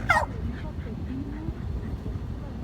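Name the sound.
dog barking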